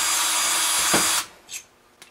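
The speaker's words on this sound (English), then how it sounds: "I'm going to drill into the pilot hole for the first one to make a 1/4 inch opening for that" A power drill whines steadily at high speed drilling a 1/4 inch hole into a pilot hole, then stops abruptly, followed by a couple of short, sharp clatters.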